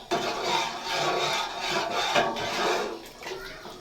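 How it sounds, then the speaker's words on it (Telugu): A spoon scrapes and rubs through thickening Bombay rava (semolina) batter in a pan, a continuous rasping stir with short pulses, close and fairly loud, fading a little toward the end. "వేసి కలుపుతూనే ఉండాలి"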